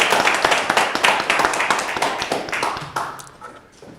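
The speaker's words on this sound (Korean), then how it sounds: "여러분 주용진 교수님께 환영의 큰 박수로 맞이해 주시기 바랍니다." An audience claps in welcome for a professor arriving at a history lecture, a dense, steady round of applause that tapers off toward the end, no talk over it.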